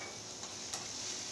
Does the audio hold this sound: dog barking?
no